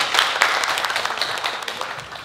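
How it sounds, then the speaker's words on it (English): Audience applause at a model hunt event, steady dense clapping from a crowd throughout, slowly tapering toward the end. "So can you all give it a round of applause once again?"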